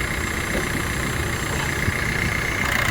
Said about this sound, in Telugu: ఇంజన్ కూడా చూడవచ్చు ఎంత స్మూత్గా ఉందో.